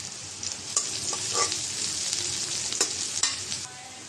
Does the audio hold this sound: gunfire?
no